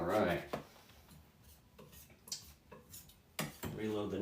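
A metal palette knife scraping and tapping against a palette as it is reloaded with oil paint during landscape painting, with short close scrapes and clicks.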